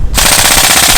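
An airsoft recoil rifle fires a loud, rapid, continuous burst of sharp cracks right up close at an indoor CQB site during an open day, with no voices over it.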